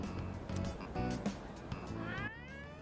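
A cat meows in the Persona 3 Reload video game, a short rising-and-falling cry near the end that follows busy game music and effects.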